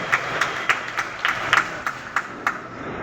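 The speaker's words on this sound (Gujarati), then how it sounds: "ખૂબ તાળીઓથી આપણે રામને પ્રોત્સાહિત કરીએ" Audience clapping in a hall at a student award ceremony, a steady patter of many hands with a few sharper claps standing out, moderately loud and continuous with no talking.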